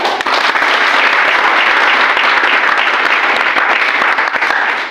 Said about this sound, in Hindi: सब लोग अपने लिए एक बार ताली बजाओ।